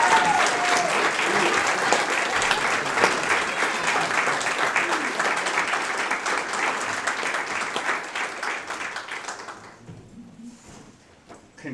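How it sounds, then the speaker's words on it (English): A standing audience at a graduation ceremony claps loudly for the graduates, a dense, sustained roar of applause that gradually thins and fades out near the end. "Can I get everybody to stand and give these graduates a round of applause?"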